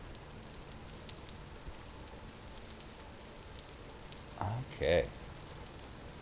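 Steady rain in the survival game Vintage Story, falling as a soft, even hiss throughout, with a brief spoken word near the end.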